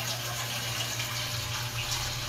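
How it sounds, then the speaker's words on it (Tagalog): Tap water runs steadily into a cooking pot in a home kitchen, a constant splashing stream close by with no talk over it. "Naglagay na ako ng tubig sa kasirola."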